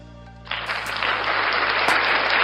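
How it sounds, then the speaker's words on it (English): Hand clapping starts abruptly and continues as a dense, steady patter of claps, fairly loud and close, with no talk over it. "I clap for you."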